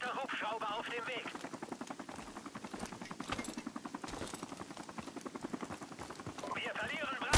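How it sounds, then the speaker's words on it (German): Allied helicopter approaching in Call of Duty Modern Warfare Remastered, a steady rhythmic rotor chop running throughout, fairly close, with game sounds at the start and end. "Verbündeter Hubschrauber auf dem Weg."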